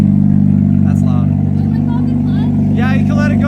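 A 2014 Honda Civic Si with an Invidia Q300 exhaust rumbles and revs nearby, deep and continuous, while people talk briefly over it.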